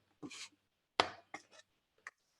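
A bench scraper chops flour into pasta dough on a work surface, giving a few separate sharp scraping knocks spaced apart, close and fairly quiet.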